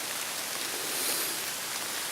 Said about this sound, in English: Raining all day.